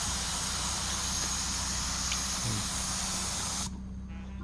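Paint spray gun blowing lacquer thinner through its spray tip, a loud, steady broad hiss that cuts off abruptly near the end, leaving quiet room noise.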